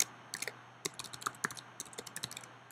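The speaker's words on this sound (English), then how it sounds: "type in your email address" An email address being typed on a computer keyboard, a quick run of close, crisp key clicks in uneven bursts over a faint steady hum, with no talk.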